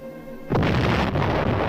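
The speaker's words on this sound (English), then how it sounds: "Ships of the UN fleet fire point blank at the island." Naval guns from a UN fleet bombard an island at point-blank range, heard as a sudden deep explosive boom followed by sustained rumbling roar in old archival war footage.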